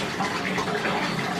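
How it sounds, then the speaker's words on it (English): Water rushing and splashing continuously in a bathtub at home, a steady close wash of sound with no talk over it. "Splish, splash. I'm taking a bath."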